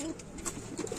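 Pigeons on a pigeon farm give soft, low, throaty coos in a quick little run, fairly close and quiet, with no talk over them.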